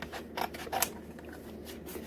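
Scissors snip through the cardboard front of an Eggo box, giving a few quiet crisp cuts spaced out over two seconds, close but faint against a hushed room.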